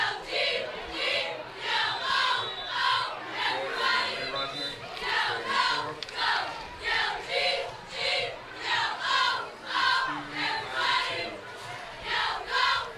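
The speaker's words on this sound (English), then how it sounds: "despite the chilly night, the crowd showing up strong, cheering on the Rockets on the last game of the season" A big crowd at a chilly Friday-night high school football game cheers on the home team in a rhythmic, chant-like roar that rises and falls in regular pulses, heard from a distance and moderately soft.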